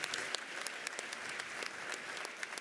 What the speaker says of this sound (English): Let's give those donors a round of applause.